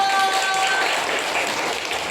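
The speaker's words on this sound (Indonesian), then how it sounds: "Beri tepuk tangan untuk Satrio." Applause from pupils in a classroom for a student called up to the front, a brief burst of steady clapping that fades slightly over two seconds, with a faint tone in the background.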